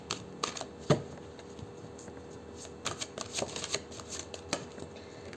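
A deck of oracle cards being shuffled by hand, soft papery riffles and slides in short irregular bursts with quiet pauses between, close and fairly faint, no talking.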